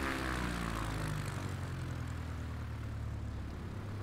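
A light propeller plane's engine droning steadily while landing on a UK coastal flight, a loud close continuous rumble that eases slightly toward the end, heard alone without talk.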